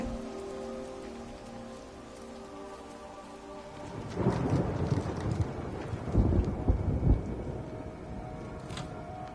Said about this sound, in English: It like rains and then clears and then rains and it clears